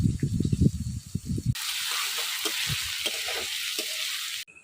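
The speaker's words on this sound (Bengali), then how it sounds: "এই দেখেন পেঁয়াজ লাল লাল করে ভেজে নিছি" Chopped onions fry in hot oil with whole spices for a Bengali fish kalia. A few close clattering stirs come first, then a loud, steady sizzle that cuts off abruptly at the end.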